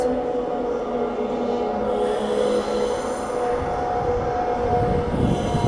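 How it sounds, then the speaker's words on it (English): A B-series electric passenger train hums steadily nearby, a continuous drone with tonal whine and rumble, no horn. "here's our train. I can clearly hear it's just a B series"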